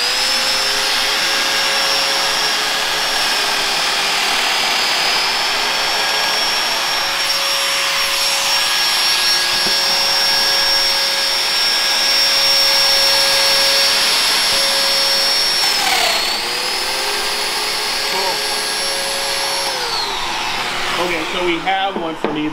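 A Domino joiner makes a plunge cut with a dust extractor running. A loud, steady vacuum-like roar with a high tonal whine carries throughout and dips briefly near the end as the cut finishes.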